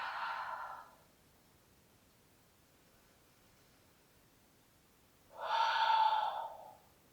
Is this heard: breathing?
yes